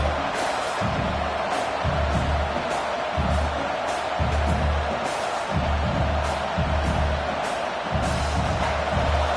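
A large football stadium crowd roars in a steady, dense wash of noise throughout, with a deep rhythmic low pulsing underneath, loud and continuous with no clear speech.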